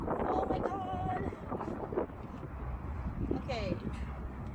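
Strong gusting wind buffets the microphone high on a bridge at Hoover Dam, a steady roaring rumble running throughout beneath people talking.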